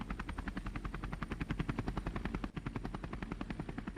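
Helicopter rotor chopping steadily and loudly, a fast regular thumping beat with engine whine underneath, used as a sound effect for an animated helicopter graphic in television election news coverage; one brief dip midway.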